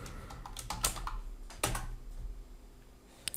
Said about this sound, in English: So I'm going to type in here Midjourney.